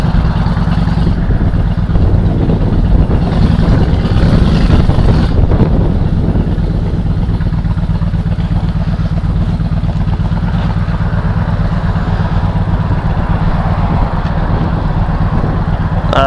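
A Honda Shadow 1100 Aero motorcycle rumbles loudly and steadily while riding out of the city, with a continuous deep engine drone and some wind noise, close and unbroken.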